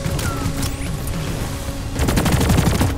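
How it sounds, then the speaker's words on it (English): In the video game Deep Rock Galactic, gunfire and explosions go off amid a swarm fight, with a dense burst of rapid blasts crackling near the end. "Come Incendiary grenade!"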